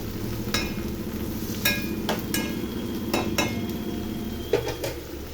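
Raw prawns and onions sizzling in a pan for a curry, a steady crackling fry broken by several sharp clinks and scrapes of a spoon stirring against the metal, close and fairly loud with no talking.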